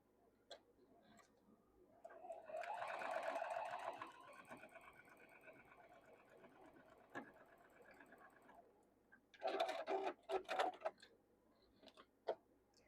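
A sewing machine stitches quilt block pieces in short bursts, a soft rapid whir for several seconds followed by a couple of brief louder runs, quiet and close with light ticking between.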